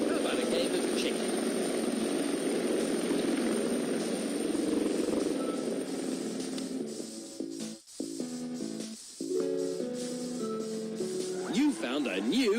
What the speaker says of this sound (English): Oh, look! A helicopter!